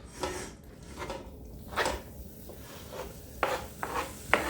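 Cut muscle and organ meat, fish and vegetables for homemade dog food being scraped and dropped into a pan, soft clatters and thuds spaced irregularly, close and fairly quiet with no talk.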